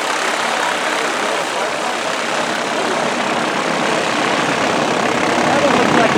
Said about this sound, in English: single-engine Cessna now landing at Camarillo.